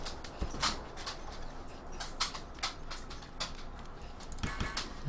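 Dogs in the video game Stronghold Crusader 2 give a series of sharp, scattered barks, several distinct yelps spread across a few seconds over a low background of game ambience.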